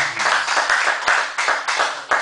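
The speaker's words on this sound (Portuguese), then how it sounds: "Então vamos aplaudir o Senhor Jesus" A church congregation claps together in praise during a communion service, steady, fairly close hand claps with a few sharper accents, no talking over it.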